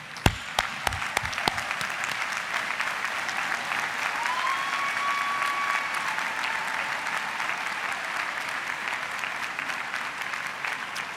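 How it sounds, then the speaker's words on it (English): A graduation ceremony crowd claps at length, a thick even wash of applause with a few sharp claps standing out at the start and a brief thin whistle partway through. "would you mind standing and giving a round of applause"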